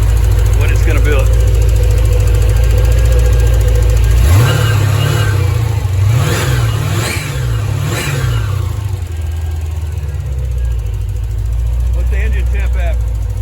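A Paxton-supercharged C4 Corvette with a 5.7 ZZ3 TPI engine and Edelbrock High Flo parts fires for the first time, a loud close rumbling idle rising into several sharp revs, with people talking nearby.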